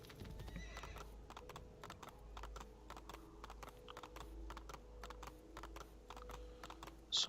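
Horse hooves clip-clop in a video game, a quick steady beat of hoofsteps close by and fairly quiet, ending with a short neigh.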